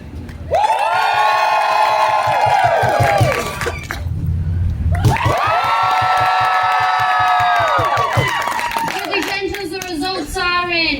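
A crowd at the Pennsylvania Renaissance Faire on a Halloween-themed day gives two loud, sustained bursts of cheering and whooping, with high children's voices mixed in, separated by a brief lull.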